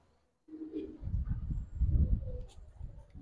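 Pigeons at a breeder's loft housing silver, army and coloured fancy breeds give low, soft cooing and rumbling calls, fairly close and steady in level.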